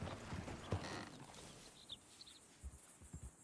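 Horses in the Red Dead Redemption II video game, with soft hoof clops and shuffling under a faint outdoor ambience with a few bird calls, quiet and somewhat distant.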